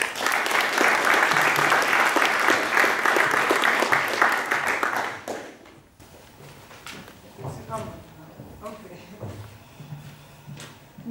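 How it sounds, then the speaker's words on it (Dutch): Audience applause for the second speaker at an evening lecture, dense clapping for about five seconds that stops abruptly, followed by quiet room noise, shuffling and footsteps. "Dan zou ik nu graag een applaus willen hebben voor de tweede spreker van de avond, Desiree van der Ven."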